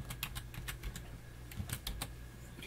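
Keys clatter on a computer keyboard in a few quick bursts, close and moderately loud, over a low steady hum with no talk.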